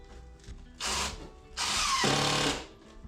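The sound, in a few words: driving 1.5 inch screws into a wooden shelf with a drill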